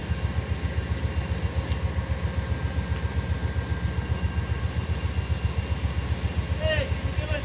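A CSX freight locomotive running with the Amtrak Lake Shore Limited gives off a steady low diesel throb and rail rumble with a regular pulsing beat, plus faint high squeals near the end, as a voice talks over it.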